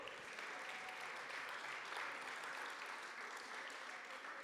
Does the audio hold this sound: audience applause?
yes